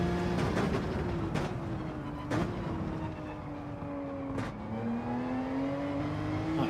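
Porsche race car engine in Gran Turismo 7, droning steadily and close at high revs with shifting pitch, punctuated by a few sharp gear-change blips, continuous through the run.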